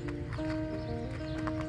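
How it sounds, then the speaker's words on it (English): Horse hooves walking on an uneven slope during riding training, soft irregular thuds and clip-clop steps over a steady outdoor background hum. "today we're going to practice riding a horse on an uneven slope"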